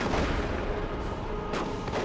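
Scout squads fire shotguns in a Dawn of War 2: Retribution battle, loud overlapping blasts that layer into a continuous din of combat, with sharper reports standing out near the start and end.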